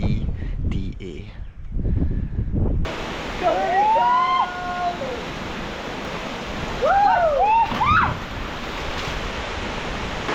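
A steady roar of rushing falling water at Neda Waterfalls in Greece fills the scene, with people exclaiming and talking loudly over it.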